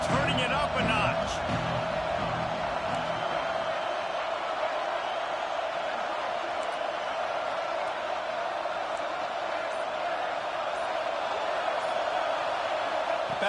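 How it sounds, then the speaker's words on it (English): Dense football stadium crowd noise at a Penn State versus Ohio State game, a steady roar that stays loud and even throughout the clip, with a brief burst of louder cheering near the start. "this crowd is turning it up a notch"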